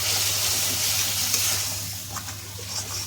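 A frying spice mixture stirred in a pan after water is poured in, a dense close hiss and bubbling sizzle with a few stirring knocks over a low steady hum.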